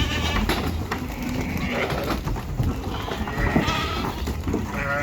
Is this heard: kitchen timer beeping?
no